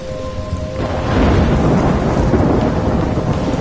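A thunderstorm with heavy rain in the Life is Strange video game, a loud deep thunder rumble swelling after the first second over a dense, continuous downpour, with no voices.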